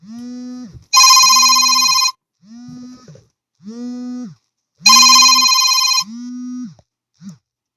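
An old-style telephone bell rings loud and close in two long bursts, with a steady warbling ring tone sounding between and after them, and no talking.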